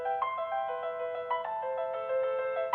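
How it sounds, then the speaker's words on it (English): A mobile phone ringtone plays a classical tune as a steady electronic melody of sustained tones, clear and close with no talking. "That's the ringtone."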